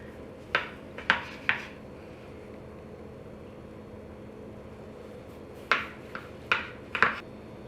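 A knife slices through a loaf of low-carb keto zucchini bread, giving two clusters of sharp crunchy cuts, three quick strokes and then four more after a quiet pause, close and fairly clear.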